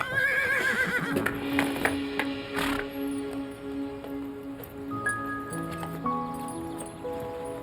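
A horse whinnies loudly and close by at the start, a shrill quavering neigh, followed by snorts and scattered hoof clops amid quieter sustained tones.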